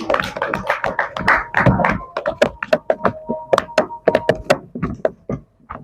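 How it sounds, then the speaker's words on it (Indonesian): Students in a classroom clap for a presenting group, a loose, uneven scatter of individual claps and knocks, close and sharp, thinning out toward the end. "Kita kasih tepuk tangan dulu untuk kelompok 4"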